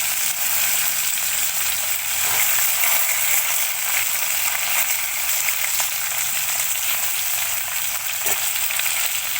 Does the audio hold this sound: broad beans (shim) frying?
yes